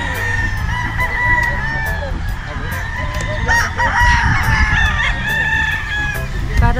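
Several roosters crow repeatedly over a dense, continuous chorus of clucking fowl at a game farm in Batangas, with some honking mixed in, loud and close throughout.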